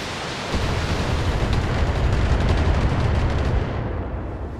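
Heavy artillery barrage in the Battletech video game, a dense continuous rumble of shelling that holds loud and steady for several seconds before tapering off near the end.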